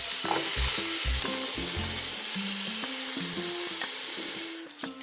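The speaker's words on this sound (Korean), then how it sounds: "이제 고기를 볶을 거거든요" Seasoned, marinated meat stir-fried in a stone pot for stone-pot bibimbap, a steady close sizzle under repeated scraping and stirring strokes, fading slightly at the end with no talk.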